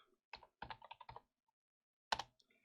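Short bursts of typing on a computer keyboard, a quick run of close, crisp key clicks followed by a pause and then a final sharp keystroke, with no talking.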